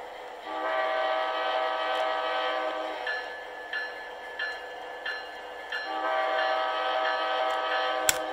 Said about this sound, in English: If I press the horn button and we hear a new horn